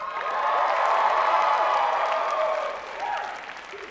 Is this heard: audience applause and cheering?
yes